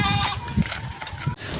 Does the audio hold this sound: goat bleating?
yes